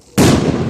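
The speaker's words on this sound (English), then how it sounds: "Go ahead, fireworks, go." A big firework goes off with a sudden loud boom, followed by a dense, crackling roar of bursts that fills the rest of the moment, close by and with no voices over it.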